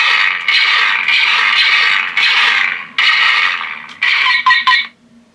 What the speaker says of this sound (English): DC-15. This is one of the Clone Trooper ones.